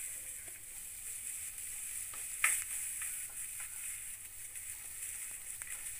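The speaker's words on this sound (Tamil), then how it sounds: "வெஜிடபிள்ஸ் நல்லா வதங்கி வரணும்" Onion, carrot and capsicum sautéing in butter over a medium flame, a soft, fairly faint sizzle with scattered light spatters and one louder clink of stirring, no talking.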